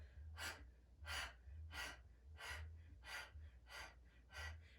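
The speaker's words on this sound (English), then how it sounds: "Maybe adding our Kapalabhati breath. Passive exhale, active exhale, passive inhale." Kapalabhati breathing during a heat-building yoga flow: seven sharp, forceful nasal exhales in a steady rhythm, each a short breathy burst, close and fairly quiet with no talking.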